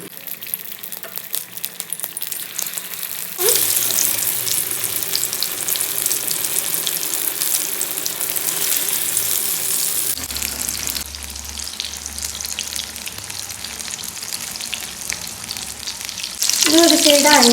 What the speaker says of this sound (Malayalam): നമുക്ക് ഈ ചിക്കൻ ഫ്രൈ ആക്കിയിട്ട് എടുക്കാം.